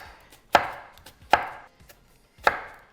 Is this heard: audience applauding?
no